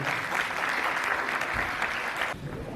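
Audience at a Turkmenistan country promotion event in Bursa applauding as Turkmen students are welcomed to the stage, steady dense clapping that drops off near the end.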